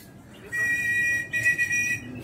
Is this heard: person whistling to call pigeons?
yes